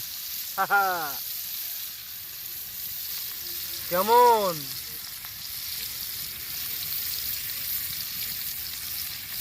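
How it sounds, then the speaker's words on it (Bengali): Fish and chicken kebabs fry in a pan with a soft, steady sizzle beneath two short spoken exclamations, the frying hiss continuing quietly and evenly throughout. "এদিকে মাছও ভাজা হবে, এদিকে কাবাবও হবে।"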